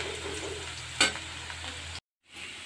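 Dry cabbage stirred in a pan, giving a soft continuous sizzle with one sharp scraping clatter of the spoon against the pan partway through, then a brief break and the sizzle resuming.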